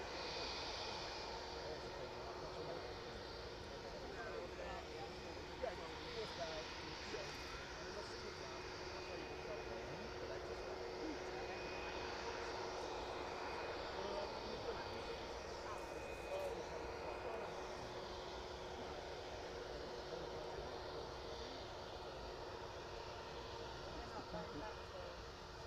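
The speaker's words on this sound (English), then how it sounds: "Catching up with the Ryanair off to Venice in just a few minutes then, once the Lauda departs." A Lauda jet departing the runway at East Midlands Airport in the evening, a steady, distant engine roar that holds throughout, with a person talking over it.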